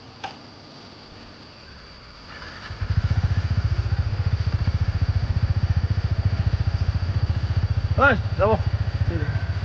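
A Yamaha R15 motorcycle engine starts and settles into a steady, throbbing run close by for most of the stretch, and brief speech and a short horn-like tone sound over it.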